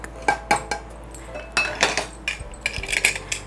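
A metal spoon clinks and scrapes against a pressure cooker while beef and lentil vada ingredients are mixed, with sharp irregular knocks close by and no talking.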